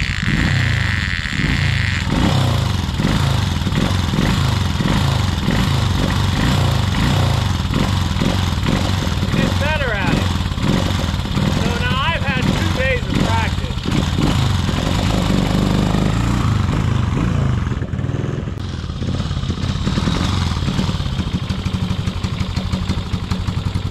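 An old Suzuki SP400 enduro thumper with no electric start, choke still on, is kicked over repeatedly, its single-cylinder engine catching into loud, lumpy, clattering running with rhythmic pulses close by, without speech.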